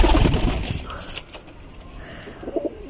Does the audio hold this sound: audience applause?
no